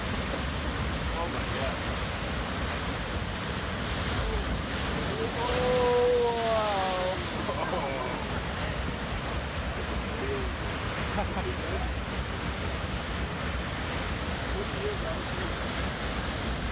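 Rough ocean surf and strong wind roar continuously along the rocky coast of Acadia National Park, with loud broadband wind buffeting the microphone throughout. A faint tonal whistle or hoot rises briefly in the middle.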